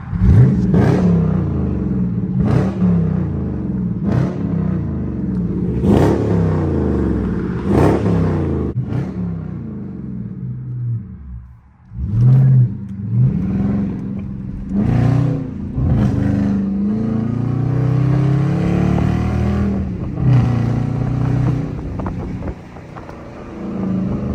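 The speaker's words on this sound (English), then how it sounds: "I'll give y'all a couple revs." A powerful V8 engine in a Dodge Charger R/T with traction control off revs hard several times in sharp bursts, then settles into a loud rumbling acceleration with wind noise, no talking.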